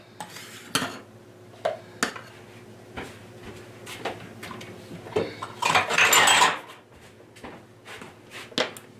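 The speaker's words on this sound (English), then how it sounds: "I'll clean up my dishes here" Dishes being cleaned up in a home kitchen while cooking chicken fettuccine alfredo: repeated clinks and clatters of plates, pots and cutlery, with a louder run of scraping and rattling near the middle, close by with no talking.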